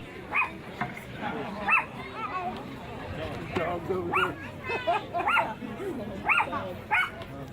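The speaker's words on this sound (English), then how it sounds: "And somebody's little yappy dog." A small, yappy dog barks over and over in sharp, high yips at an outdoor Civil War battle reenactment at Narcoossee Mill. The yips come in an uneven rhythm over murmuring crowd chatter and talk.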